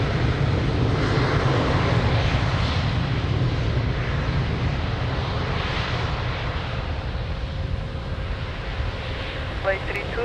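Airplane taking off from runway 02 at Lisbon Airport, a loud sustained engine roar with broadband rumble dominating throughout, plus a faint steady tone near the end.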